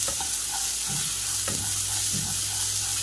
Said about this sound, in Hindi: 2 मिनट के करीब हम मूंग के साथ भी भून लेंगे मसाले को।